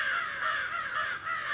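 Crows cawing in the countryside, sounding a warning at a black cat near a chicken coop; a steady, fairly distant harsh calling carries through the short stretch with no one talking.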